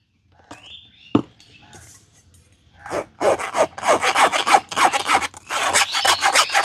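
Ground raw mango and mint paste is rubbed and pressed through a sieve set over a bowl, giving a rhythmic scraping, rasping sound that starts after a few quiet taps and grows steady and close.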